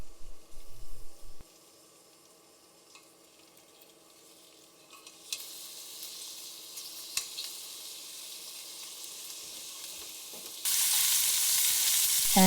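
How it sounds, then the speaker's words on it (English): Marinated lobster halves frying in hot oil, a steady hiss that starts quiet and swells into a louder, bright sizzle near the end, with a brief clatter at the start. "Put the marinated lobster halves into the oil."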